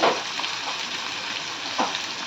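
Two medium onions tossed into a hot pan for a spicy potato curry, crackling in a dense, steady sizzle with a couple of soft stirring knocks.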